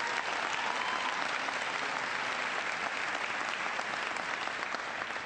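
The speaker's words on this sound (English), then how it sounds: "Give her a big round of applause." A large crowd at a political event applauding, a dense, continuous roar of clapping that holds steady and loud from start to finish, with no talking.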